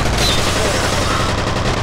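Continuous SMG fire in the video game F.E.A.R., a loud, dense, unbroken rattle of rapid shots filling the whole stretch.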